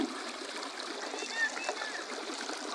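A stream of fresh water flows and trickles nearby with a steady, bright babbling hiss, a small splash near the end.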